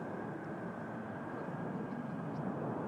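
Air Canada jet airplane at Toronto Pearson airport, wearing a special TransCanada livery: a faint, steady, distant engine rumble holds evenly throughout.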